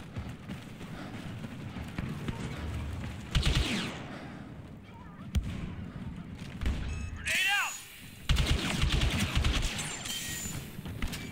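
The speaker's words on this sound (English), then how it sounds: "That was a very lucky grenade" Grenade blast and bursts of gunfire in a video game firefight, sharp loud bangs breaking through a dense layer of game noise, with people talking over the action.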